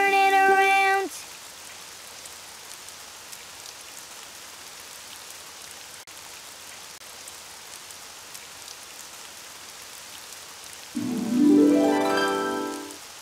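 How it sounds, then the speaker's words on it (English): Steady rain patters in the Daniel Tiger video game, a soft even hiss that continues throughout, with short bursts of musical game sounds at the start and near the end. "It's raining outside."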